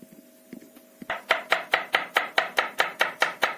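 A knife chops garlic steadily on a cutting board, about a dozen sharp, evenly spaced strikes after a few quieter taps, close and fairly loud.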